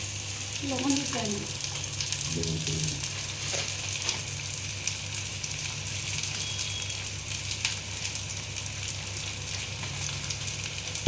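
Onions frying in a pan alongside potatoes and tomatoes in a crab dish, a steady sizzle with stirring clinks near the start, heard over a low hum with no talking.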